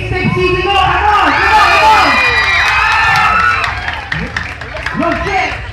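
A crowd at a live hip-hop dance showdown cheers, whoops and shouts loudly and continuously, with children's voices and some clapping in the roar, easing slightly before swelling again.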